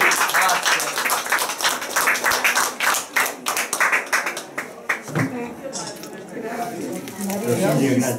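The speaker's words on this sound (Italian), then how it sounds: "Un bel applauso." Rhythmic clapping from a small group at a 105th birthday party in San Giacomo degli Schiavoni, with voices chatting over and after the claps as they taper off.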